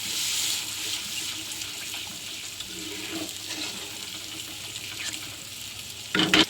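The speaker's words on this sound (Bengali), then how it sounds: "এবার আমি ঠিক আন্দাজ মতন একটু জল দিয়ে দেবো।" Water splashes into a pan of spice paste fried in oil for a fish curry, with a steady close sizzle and hiss that swells sharply near the end.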